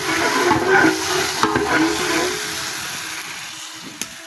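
Food cooking in a pot at a home kitchen for a family religious gathering, with broad sizzling and stirring noise, a few sharp clinks of a utensil against the pot, and the sound easing off toward the end.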